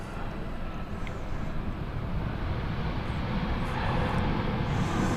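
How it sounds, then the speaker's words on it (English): Korean Air airliner arriving from Dubai at Seoul Incheon Airport, heard as a steady, fairly loud jet engine rumble and roar that swells slightly toward the end, with some wind noise mixed in. "So Korean Air from Dubai."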